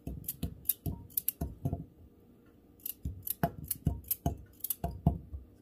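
Raw carrots cut up with a knife into a measuring cup make sharp, crisp close-up snaps and clicks in quick irregular bursts separated by a short pause; no talk.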